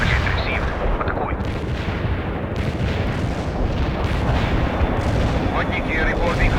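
Artillery barrage in the video game World in Conflict, a dense continuous roar of overlapping blasts and rumbling explosions filling the whole clip at steady high loudness.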